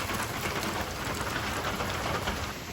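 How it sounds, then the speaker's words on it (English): Heavy rain pours steadily onto a tin roof, a dense, continuous hiss and patter with no breaks and no voices. "it's pouring right there and I have a tin roof and I can hear it and I thought it was kind of cool"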